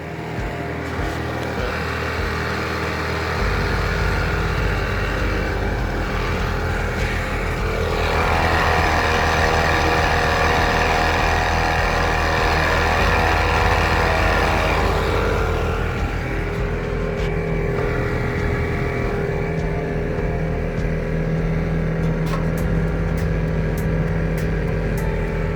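A 20 hp long-shaft Mercury 200 outboard drones steadily as the boat cruises across the water, its engine note swelling to a louder stretch midway, then settling back to an even hum with wind and hull noise.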